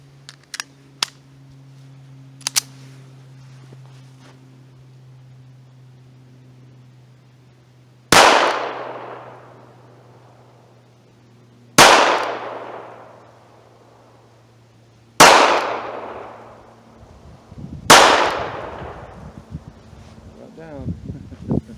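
Four loud, sharp gunshots from a Ruger LCP compact pistol, spaced a few seconds apart, each with a decaying echo, over a steady low background hum with small clicks before them.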